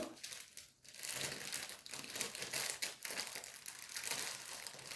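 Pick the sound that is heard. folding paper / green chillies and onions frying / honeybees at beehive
folding paper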